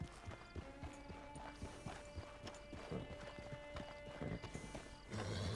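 A horse in the video game Red Dead Redemption 2, steady clip-clop of hooves at a walking rhythm with a neigh, alongside faint game music and brief background voices.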